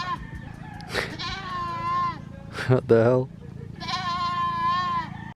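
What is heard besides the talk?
goat bleating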